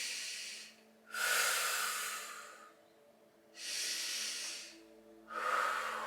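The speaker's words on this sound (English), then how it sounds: "taking 4 breaths" Slow, deep breaths during a yoga stretch, pushing the hips back on the mat: three long, close, airy exhales with quiet pauses between them, no talking.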